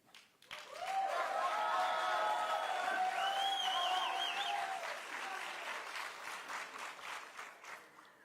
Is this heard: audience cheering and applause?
yes